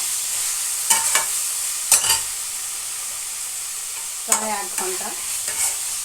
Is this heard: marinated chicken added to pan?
yes